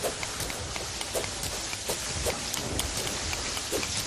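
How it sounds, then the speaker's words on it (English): Rain begins falling in Terraria as dense, steady pattering with scattered louder drops, a close continuous hiss with no voices. "And it's going to start raining."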